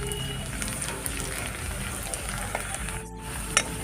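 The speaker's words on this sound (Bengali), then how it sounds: "পেঁয়াজটি সুন্দর করে ভাজা ভাজা হয়ে পড়ছে" Onion frying in a pan gives a constant close hiss with scattered light crackles and pops, and no speech over it.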